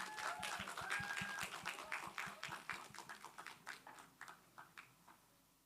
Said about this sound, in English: Please give us a huge round of applause.